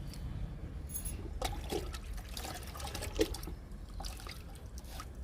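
Liquid fertilizer is splashed and sprinkled onto small potted flowering plants in faint, uneven trickles and drips, quiet and close, with no talking.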